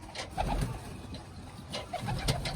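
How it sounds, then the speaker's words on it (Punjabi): Pigeons coo in soft, repeated low calls, a few birds close by with steady background noise. "ਇੱਥੇ ਸਾਰੇ ਕਬੂਤਰ ਆ ਜੋੜੇ"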